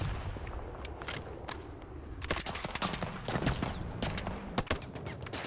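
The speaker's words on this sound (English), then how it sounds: "Why are you shooting at me? I'm shooting people out of the fucking pilot seat." Rapid bursts of gunfire from a Battlefield 2042 firefight, with dense overlapping shots and clustered volleys crackling steadily over a rumbling battlefield backdrop, loud and continuous throughout.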